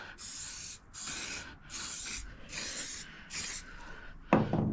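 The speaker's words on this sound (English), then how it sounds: "let's spray this on" Rust remover sprayed from a can onto a part, in five loud, close hissing bursts of about half a second to a second each, with short gaps between them, and a brief handling knock at the end.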